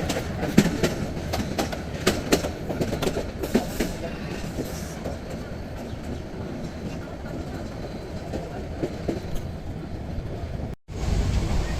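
The Subarna Express, a non-stop train between Dhaka and Chittagong, rumbles steadily from on board with rhythmic clickety-clack of wheels over rail joints, closing with a brief dropout and then a resumed roar.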